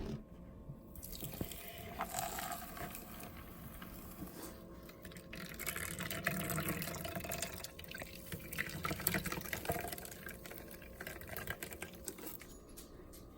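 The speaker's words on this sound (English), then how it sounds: "So we just pour it in and strain it out." Almond milk is poured into a reusable nut-milk straining bag, giving a soft continuous trickle and splash of liquid running through the cloth into a bowl, fairly quiet and unbroken.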